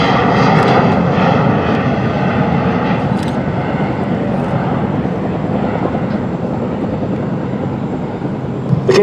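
A C-40 military jet at an air show at Joint Base Andrews, its engines giving a loud, steady roaring whine that holds for several seconds, fairly near, with no clear talking.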